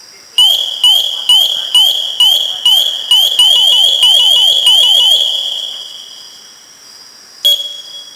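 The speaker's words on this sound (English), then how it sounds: "The alarm consists of 4 distinct phases." An SCBA PASS device alarm sounds a rapid series of loud, high-pitched descending chirps with a sustained shrill tone above, running for several seconds, fading, then returning in one short burst.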